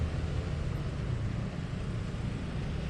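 Steady low rumble of idling and creeping engines in a stop-and-go traffic jam, heard from a motorbike on the road during the Lebaran 2025 homeward rush, a continuous dense drone with no clear voices.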